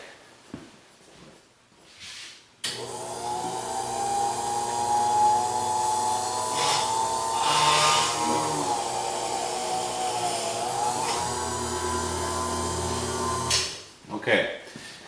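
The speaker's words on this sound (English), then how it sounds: "So I'm going to drill this out quick." A power drill bores out a part of a fast-slow clock regulator mechanism in one continuous loud whirring run of about eleven seconds, winding up and cutting off abruptly, with quiet handling noise before and after.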